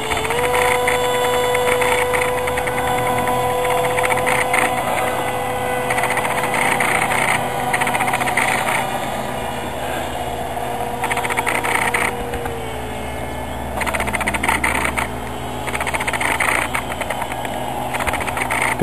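The small engine of a model autogyro in flight drones loudly and continuously, its buzzing pitch rising and falling as the aircraft climbs and turns through gusty air, with no voices.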